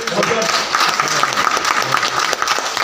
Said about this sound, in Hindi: एक बार जोरदार तालियां आप सबके लिए।